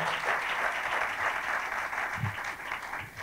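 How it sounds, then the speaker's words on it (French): A church congregation at an evangelical Friday service applauds, a steady wash of clapping from many hands that runs the whole time at moderate, slightly distant loudness. "On acclame pour eux."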